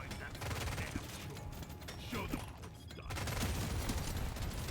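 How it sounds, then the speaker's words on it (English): Rapid automatic smart rifle fire in the Deep Rock Galactic Survivor video game, dense crackling bursts nearly nonstop with a short lull near the middle, under occasional speech. "The smart rifle's looking pretty good damage-wise so far."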